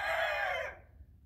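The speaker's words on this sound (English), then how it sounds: "Thanks, roosters." A rooster crows loudly close by, one drawn-out call that fades quickly into quiet.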